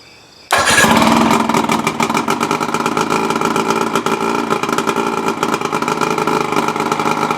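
A 1973 Johnson 50 hp outboard motor, its low compression just fixed with a new head gasket and impeller, cranks after a second of quiet, catches, and settles into a loud, steady, slightly uneven running drone up close, with nobody talking.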